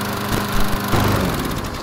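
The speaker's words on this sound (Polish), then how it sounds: "on bez problemu z systemem Ready Start odpala za pierwszym pociągnięciem" A Husqvarna LC348VE lawn mower's petrol engine runs loud and close, a steady buzzing drone with slight rhythmic pulsing and no voices.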